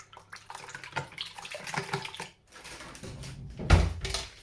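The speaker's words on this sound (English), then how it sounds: "And then we whisk." Eggs seasoned with salt and crushed pepper are whisked in a bowl at close range, a continuous wet scraping and sloshing with uneven bursts and a brief pause midway.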